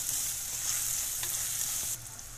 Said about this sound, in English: so ilalagay natin ang bawang and luya. So, saute again.